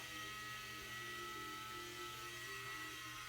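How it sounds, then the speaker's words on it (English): A Dremel rotary tool grinds a dog's nails, a continuous high-pitched whirring drone held close and steady without pause, with no talking. "feeling comfortable with the vibration of the Dremel, I'll hold it on her paw for longer and longer"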